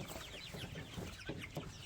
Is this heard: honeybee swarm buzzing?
no